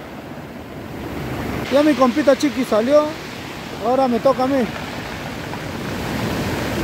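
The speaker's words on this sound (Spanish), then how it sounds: "La mar está subiendo y tenemos que retirarnos de acá." Sea surf on a rising tide at a rocky fishing shore, a constant roar of breaking waves with wind buffeting the microphone, while someone speaks briefly over it.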